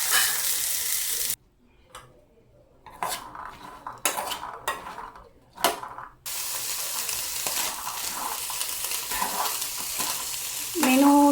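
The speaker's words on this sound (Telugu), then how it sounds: "తాలింపు ఫ్రై అయిపోయిన తర్వాత శనగలు వేసేసుకోవడం" Boiled chickpeas tip into a hot tempering pan and fry with a loud sizzle, broken by a short quiet gap, then a spoon scrapes and clanks against the pan as they are stirred.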